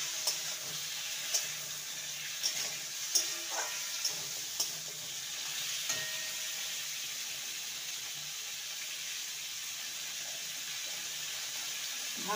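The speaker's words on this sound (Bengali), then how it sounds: "ভালো করে পটল আর আলুকে ভেজে নেব।" Pointed gourd and potatoes fry in a pan with salt and turmeric, giving a steady soft hiss and sizzle with a few faint clinks early on, close and unbroken, with no talking.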